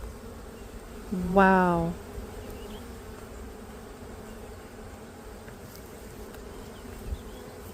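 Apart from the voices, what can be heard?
honey bees buzzing around hive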